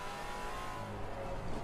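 A GT4 race car engine in Assetto Corsa Competizione drones steadily at speed with a rough, rhythmic wobble from a tyre flat spot, loud and continuous without any voices.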